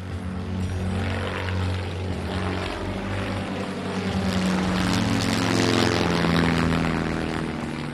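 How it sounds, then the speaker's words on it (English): An old propeller airplane engine runs steadily close by, a loud droning, throbbing roar that swells slightly over several seconds. "They're an old airplane and they're supposed to fly."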